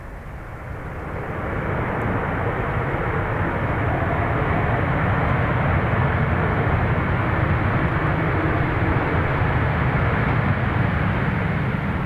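A Ryanair aircraft at Dublin Airport, its jet roar rising over the first two seconds and then holding at a steady, fairly loud level to the end, with no one talking over it.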